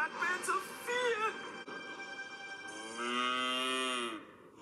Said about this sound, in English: But it was just a cow in the field.